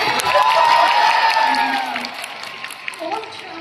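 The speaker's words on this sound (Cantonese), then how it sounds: "俾掌聲你支持" Audience applause and cheering at a concert in Shantou, loud at first and gradually thinning out, with crowd noise and a voice coming through over it.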